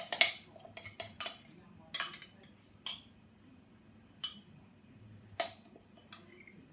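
A spoon clinks sharply against bowl and muffin cases as a mixture of oats is divided between four cases, a series of irregular close metallic taps with quiet gaps between them.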